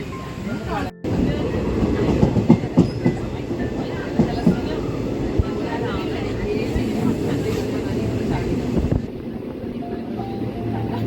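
A passenger train travels between Mahe and Vadakara stations, a loud, steady rolling rumble with rhythmic wheel clatter and rattling carriages running the whole time, while faint voices murmur in the background.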